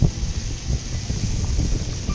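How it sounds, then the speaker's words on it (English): Steady outdoor wind buffeting beside a Weber Q grill, a constant low rumble with gusty swells throughout, fairly loud and continuous with no talking. "it's quite windy out here"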